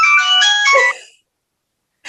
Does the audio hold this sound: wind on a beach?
no